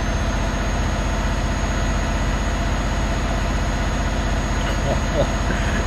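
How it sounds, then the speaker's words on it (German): A heavy truck's engine in Euro Truck Simulator 2, hauling about 70 tonnes, gives a steady, loud, low rumbling drone that runs unbroken throughout. "Der Motor ist einfach komplett am Ausrasten."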